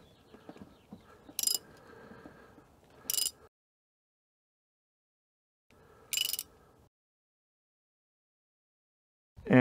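A 1994 Acura/Honda 1.8L engine is turned over by hand with a ratchet, giving a few short bursts of mechanical clicking and grinding with quiet gaps between them and no talking.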